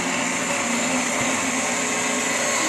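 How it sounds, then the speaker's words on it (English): An immersion blender whirs continuously at a steady, loud pitch while mixing roasted tomatoes and onions for soup, with no talking over it. "So, got our immersion blender."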